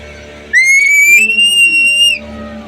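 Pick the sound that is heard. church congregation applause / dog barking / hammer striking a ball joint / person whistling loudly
person whistling loudly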